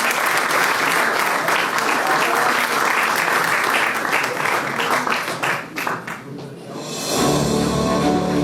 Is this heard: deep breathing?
no